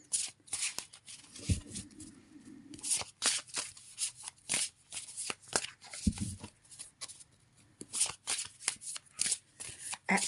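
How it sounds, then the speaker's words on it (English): Tarot cards being shuffled and drawn, giving soft repeated riffling and flicking with a few low thumps as cards are set down, close and fairly quiet. "I'm going to draw 6 cards and see what happens from here"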